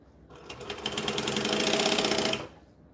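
A sewing machine stitches and back-stitches bonded nylon fabric in one close, steady burst of about two seconds, rising briefly and then stopping cleanly.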